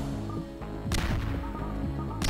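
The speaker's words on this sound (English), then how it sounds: "they're shooting at me" Rapid gunfire and sharp impact bursts from the side-scrolling action game Cortex Command, crackling over a dense layer of game music and effects, with two louder blasts standing out near the middle and at the end.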